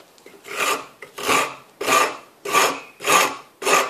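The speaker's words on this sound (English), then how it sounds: "And I start rasping to get the shape that I want." A rasp files a piece of wood clamped in a vise during box making, six even rasping strokes in a steady rhythm, each a close, loud coarse scrape separated by short pauses.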